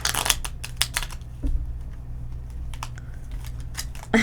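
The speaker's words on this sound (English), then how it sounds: "Okay, I shuffled these horribly." Tarot cards are shuffled in quick, crisp clusters of riffling snaps, loud and close, with a pause in the middle and a final burst at the end.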